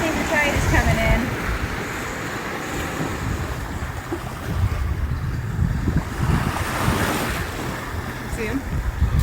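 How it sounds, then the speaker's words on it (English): Surf from an incoming tide rolls steadily onto a Gulf Coast beach in Florida, a continuous near wash of breaking waves with wind buffeting the microphone throughout. "I think the tide is coming in."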